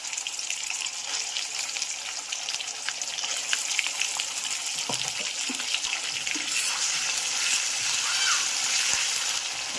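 Onions browning in a pan for a hilsa and bottle gourd curry, with ginger garlic paste about to be added, give a steady broadband sizzle that swells slightly toward the end, with a few soft utensil knocks.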